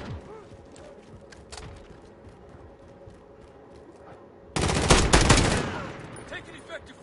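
Bursts of automatic gunfire in a Call of Duty match played on PS5, loud and close, with a dense rattling volley in the second half after quieter background shots and game sounds.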